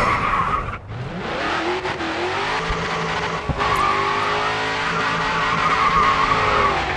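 Race cars in the 2013 racing game Grid 2 roar at full throttle with a steady, loud engine note and sustained tire squeal, a brief dip near the start and a sharp click partway through, with no talk.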